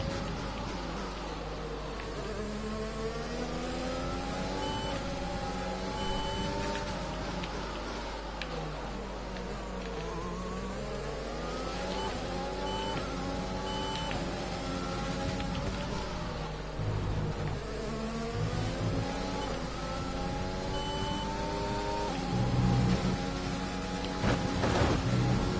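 Racing cars in F1 2020 whine past with high, buzzing engines, pitch sweeping up and down through gear changes as several cars run close together in a steady drone.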